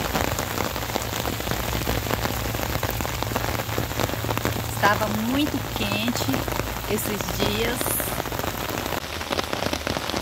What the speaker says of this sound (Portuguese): chovendo bastante aqui na Bahia.